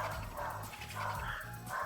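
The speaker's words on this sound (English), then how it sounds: "Sorry for my dogs." Pet dogs bark and yip in quick repeated bursts in the background, moderately loud and continuous over a short stretch.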